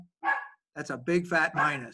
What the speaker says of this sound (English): That's my dog. See my doggy.